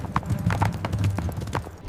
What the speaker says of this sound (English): William the Conqueror rode a war horse, sophisticated and ruthless